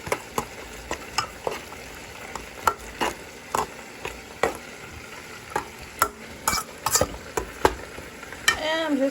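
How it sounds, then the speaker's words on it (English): Suya meat with chili flakes and seasoning is stirred in a sizzling pan, a spatula scraping and knocking in quick, regular strokes over a steady low fry, close up with no talk. "Stir all that up."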